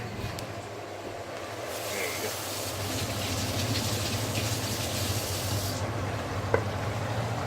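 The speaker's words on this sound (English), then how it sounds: "Let me just wash my hands very quickly." A kitchen tap runs while hands are washed, a steady hissing gush of water throughout with a low background hum and a small clink near the end.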